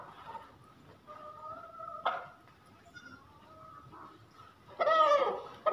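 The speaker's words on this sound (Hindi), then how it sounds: "ये बहुत ही समझदार मुर्गा है, वाइट कलर का" A white rooster on a farm gives a few short clucking calls, with a louder, busier burst of calls near the end over quiet background noise.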